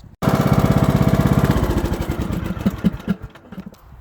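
A Craftsman YTS3000 riding mower with a bagger, its engine running with a steady rapid chugging that softens into a looser, uneven putter toward the end, close by and loud with no talk.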